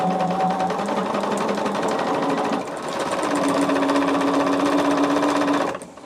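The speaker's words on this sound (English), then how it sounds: "I am going to sew the two pieces together first" Sewing machine stitching fabric pieces together for a quilt block, running in a steady rapid whir with a brief dip partway through, then stopping.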